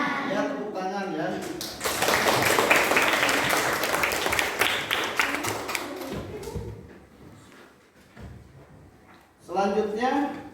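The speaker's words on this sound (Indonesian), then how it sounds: "Ya, tepuk tangan ya." Schoolchildren in a fifth-grade classroom clap together for several seconds after the teacher speaks, a brisk burst that fades out before the teacher's voice returns.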